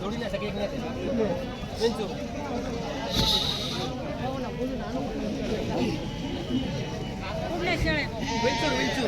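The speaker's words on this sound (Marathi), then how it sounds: "तीन पाठी बोकड कोणता आहे तांबडा बोकड आहे" Goats bleat repeatedly at a busy outdoor goat and sheep market, the cries rising over a steady bed of crowd chatter and nearby voices.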